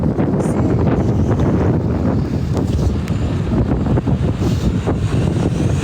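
Strong wind buffets the microphone in a loud, constant roar with rumbling gusts, with no clear voices.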